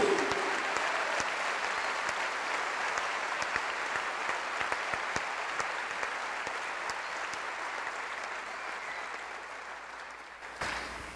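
A church congregation applauds in a long, sustained wash of clapping that stays even in loudness throughout and cuts off sharply just before the end.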